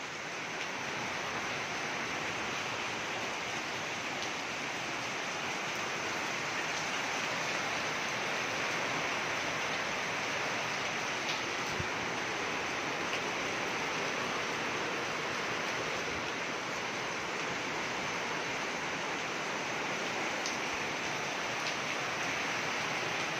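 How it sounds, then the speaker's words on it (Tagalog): Strong typhoon wind and heavy rain roar as a dense, steady rush of noise with no letup, loud and close throughout. "Malakas ang hangin."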